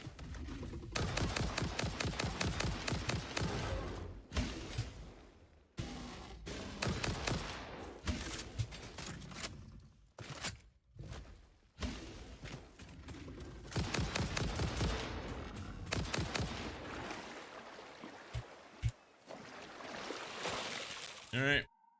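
Video game gunfire from a FICSMAS session, with dense, loud bursts of rapid shots and repeated volleys running through most of the stretch, broken by brief pauses and a faint voice heard now and then.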